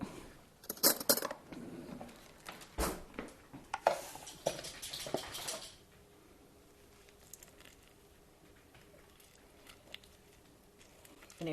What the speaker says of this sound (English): if I get a spoon and kind of dig it out